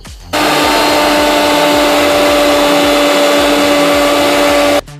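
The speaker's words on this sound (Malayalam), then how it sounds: "ഇനി നമ്മൾ മിക്സിയിലിട്ട് നല്ലതായിട്ട് അത് പൊടിച്ചെടുക്കുക." Electric mixer grinder powdering biscuits for a cake, a loud steady motor whine that starts abruptly, holds for about four seconds and stops sharply.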